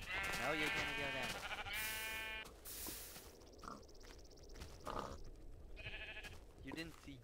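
Several sheep bleats from a Minecraft Tekkit game, wavering cries spaced across the clip at moderate loudness, with someone talking between and over them.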